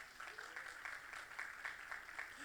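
A church congregation applauding during a Spanish-language sermon, steady rhythmic clapping from a crowd at moderate distance, continuing throughout without speech.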